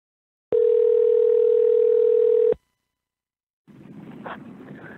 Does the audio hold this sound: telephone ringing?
yes